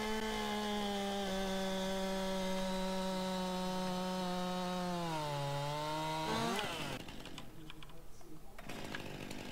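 Chainsaw in Landwirtschafts-Simulator 19 felling a tree, a loud steady engine drone that dips in pitch under load, then cuts off into crackling and thudding as the trunk comes down.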